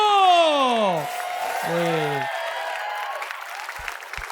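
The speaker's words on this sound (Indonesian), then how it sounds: "tepuk tangan untuk keempat dewan juri kita" Studio audience applauds the four jury members on an Indonesian comedy talent TV show, a broad wash of clapping that rises after a bright, sweeping musical sting and continues steadily under show music.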